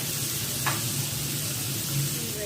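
Chicken malai tikka pieces sizzle steadily in a hot pan, a continuous close frying hiss with a brief stir or scrape partway through.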